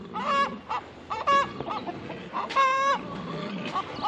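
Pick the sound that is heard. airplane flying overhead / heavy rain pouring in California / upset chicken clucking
upset chicken clucking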